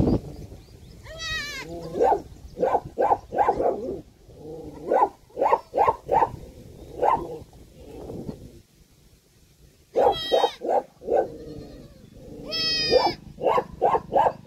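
A goat with three newborn kids bleats repeatedly, the thin high calls coming in clusters and overlapping, close by, with quieter rustling between.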